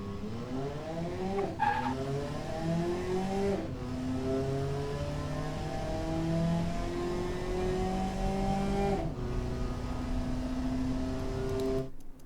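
A 1962 Flare Roadster in the game Automation accelerates hard through its gears, the engine climbing steadily in pitch with brief dips at each shift, loud and continuous with no voices.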